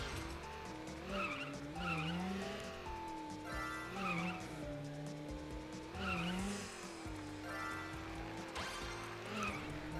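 A car drifting in a racing video game, tires squealing in long wavering whines over a revving engine, loud and close, with repeated screeching slides across the whole stretch.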